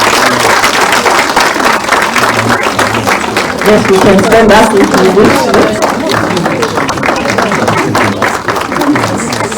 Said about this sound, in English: may we welcome the Honorable Minister with a round of applause.